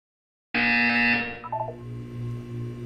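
A loud electronic buzzer from the video game Portal 2 sounds abruptly after silence, holding a harsh steady tone for about a second before fading into a lingering hum, with no talking.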